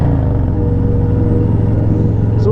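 A 2023 Harley-Davidson Road Glide ST motorcycle riding along, its engine a steady loud low rumble with a throbbing pulse close to the mic, heard alone without talk.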